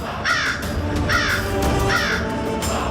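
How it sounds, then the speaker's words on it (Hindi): A crow caws three times in slow succession, loud and close, each harsh call standing out above a steady background of outdoor ambience. "काक का स्वर"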